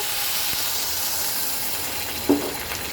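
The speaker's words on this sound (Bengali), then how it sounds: "এখন আমি দিয়ে দেব জল" Water hits a hot pan of frying masoor lentils, producing a steady hiss and sizzle with a short splash-like burst near the end.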